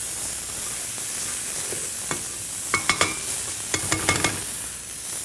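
Peppers sizzle steadily in a hot sauté pan, a constant hissing bed broken by several sharp clinks and scrapes of a utensil stirring them against the pan.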